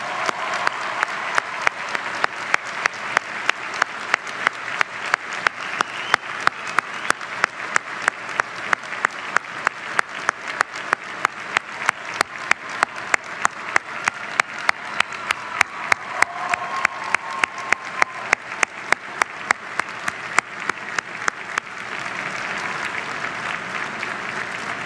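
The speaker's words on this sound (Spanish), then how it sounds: "quiero que les brindemos un fuerte aplauso a todos los profesores que fueron parte de su vida." A graduation audience gives the teachers strong applause, a dense, sustained clapping that holds steady for over twenty seconds and thins slightly at the very end.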